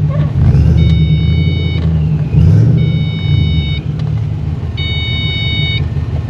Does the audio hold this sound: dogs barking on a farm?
no